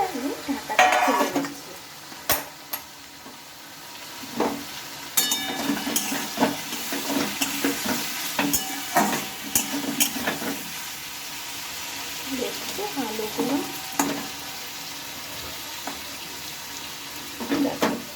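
Pumpkin, potato and chickpea curry stirred in a pan with a utensil, scraping and knocking against the metal in irregular bursts with pauses, a faint simmering sizzle underneath and no talk.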